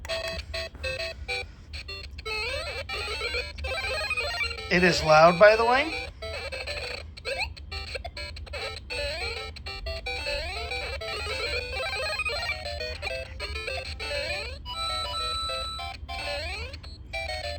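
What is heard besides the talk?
video game music from toy ornament speaker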